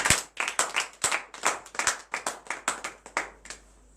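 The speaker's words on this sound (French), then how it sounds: "Donne l'acclamation à Jésus." A small congregation claps hands at a morning prayer gathering, roughly a dozen irregular close claps in a loose rhythm, with no other sound between them.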